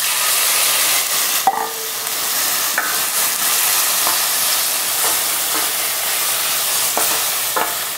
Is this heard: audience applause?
no